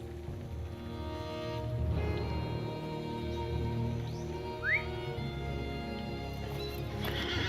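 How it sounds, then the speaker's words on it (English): Horse in the Lord of the Rings Online game whinnies while hooves clip-clop steadily underneath, with a brief rising whistle and ambient game sounds around it, fairly close and clear. "I'm on my normal horse"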